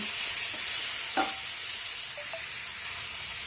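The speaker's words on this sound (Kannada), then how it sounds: "ಇವಾಗ ನಾನು 2 ಟೊಮೆಟೊ ಕಟ್ ಮಾಡಿಕೊಂಡೆ, ಅದು ಹಾಕ್ಕೊಂಡು ಚೆನ್ನಾಗಿ ಫ್ರೈ ಮಾಡ್ಕೊಳ್ಳೋಣ" Chopped tomatoes for rasam fry in a pan with a steady close hiss, broken by a couple of brief spoon scrapes partway through.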